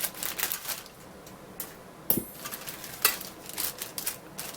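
Crinkly plastic bag holding a chrome parts tree from a 1965 Chevy 1:25 scale model car kit, cut open with a few sharp snips and rustles, close and fairly quiet.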